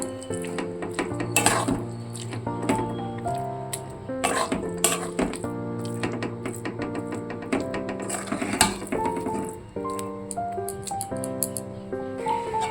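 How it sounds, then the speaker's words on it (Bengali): Spatula scraping and clinking in a pan as lentil filling for pumpkin-leaf paturi is stirred over low heat, repeated rhythmic scrapes with metallic taps and a soft sizzle, no talk. "এবার সমানে কিন্তু একদম কম আঁচে এইভাবে নাড়াচাড়া করে নেব"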